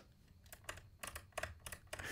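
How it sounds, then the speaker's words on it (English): The shutter speed dial on a Fujifilm camera is turned in several quiet clicks, about six soft ticks spaced irregularly over two seconds, close up and faint. "Both cameras have a shutter dial, which is great."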